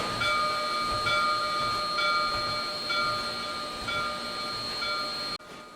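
Steam locomotive 809 of the Saratoga & Western rolls slowly out of a roundhouse onto a turntable, with a steady hiss and rumble and a soft chuff repeating about once a second. It is close and fairly loud and cuts off abruptly near the end.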